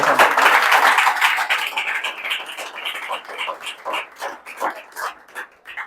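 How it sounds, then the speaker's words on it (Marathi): Students in a classroom break into loud, dense applause that thins into scattered, rhythmic claps and fades out over a few seconds. "जरा त्याच्यासाठी टाळ्या वाजू"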